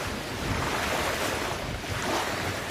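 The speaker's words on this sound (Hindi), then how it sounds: "पानी में इस तरह की वेव्स उठ रही हैं कि जैसे ओशन में उठती हैं" Wind-driven waves on Pangong Lake in Ladakh wash steadily against the shore, a continuous close surf roar swelling and easing, mixed with gusty wind noise and no voices.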